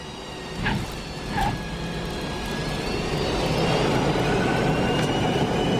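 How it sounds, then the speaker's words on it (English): An airplane takes off within an album track: a steady broadband jet roar that gradually builds and holds, with a couple of brief chirps near the start and no voices. "Got plane taking off."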